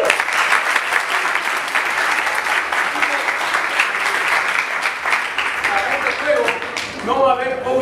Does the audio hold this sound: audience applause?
yes